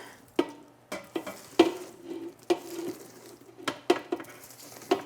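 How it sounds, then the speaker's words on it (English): Roasted vegetables tumbling into an Instant Pot, heard as a string of sharp clattering knocks and scrapes of spoon and food against the metal pot, close and irregular, with no talking. "So I'm just gonna take all these roasted veggies and get them into my Instant Pot"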